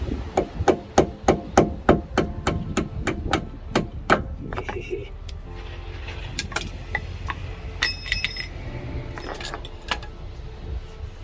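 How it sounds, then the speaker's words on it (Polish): Rapid metallic hammer blows on the wheel bearing of an Audi A6 C7 during a repair, about a dozen sharp, ringing strikes in quick succession, then scattered clanks and knocks of metal tools. "Młotek i napierdalam"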